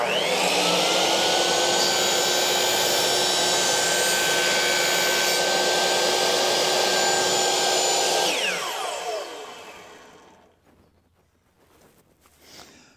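Power saw cutting a 45 degree bevel in wood, a loud, steady, high-pitched whine for about eight seconds that then spins down and fades to quiet, with no talking.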